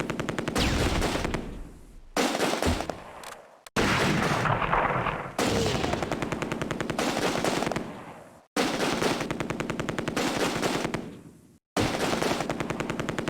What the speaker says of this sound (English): the mortars are really brutalizing these guys